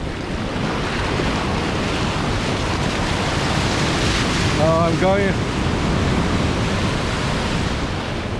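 Sea waves break and wash continuously on a beach in Portugal, a broad, steady roar of surf with wind noise, close and loud throughout, with a brief voice around the middle.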